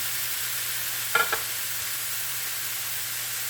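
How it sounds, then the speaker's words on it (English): Ground beef frying in a pan over medium-high heat gives a steady, even sizzle throughout, with one short scrape or stir about a third of the way in and no voices. "over in this pan, which is also on a medium-high heat, I'm going to start cooking my ground beef"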